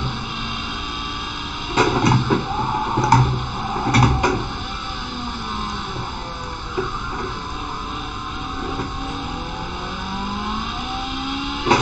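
A race car engine held at full throttle in Project Cars 2, a loud sustained high-pitched drone with a few brief louder surges early on, close and continuous with no talk.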